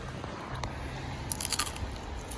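A few crisp crunches as someone bites into crunchy skin, clustered in a short burst, close but fairly soft against a faint background hiss.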